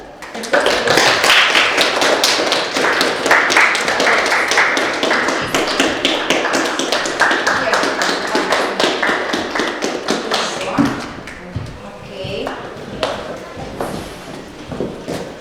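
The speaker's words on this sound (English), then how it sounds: "Applause!" A classroom group claps together at the end of a lesson, many close, sharp, rapid hand claps that run loud for about ten seconds and then thin out into scattered, quieter claps and small movement noises.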